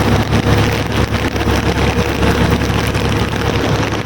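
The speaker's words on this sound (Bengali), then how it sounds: "সৌদি আরব মক্কাতে কত পরিমাণ বৃষ্টি হচ্ছে মাশাআল্লাহ" Heavy rain pours outside a building in Mecca, Saudi Arabia, making a dense, steady roar that stays loud and unbroken throughout.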